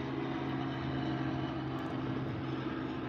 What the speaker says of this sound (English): So there's the helicopter, guys.